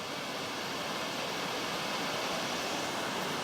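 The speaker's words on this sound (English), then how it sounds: "It's a beautiful waterfall." Steady broadband rush of a waterfall on a bush track in the Blue Mountains, near and constant without breaks, no voices.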